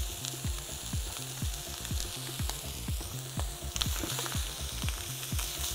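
Meat sears hard in a hot pan, a loud steady sizzle broken by regular scraping strokes as pieces are pushed around, close and continuous with no talking.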